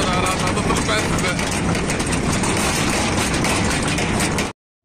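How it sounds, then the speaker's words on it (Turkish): A tractor engine runs in a Turkish village forest during a wood-collecting trip, with a loud, steady, rough rumble that stays constant until it cuts off abruptly near the end. "Traktör çalıştı."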